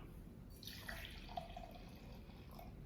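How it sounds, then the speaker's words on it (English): Liquid trickles and drips faintly as vinegar is poured into a beaker, a short soft splashing stream in a quiet room with no talking. "I'll pour a carefully measured amount"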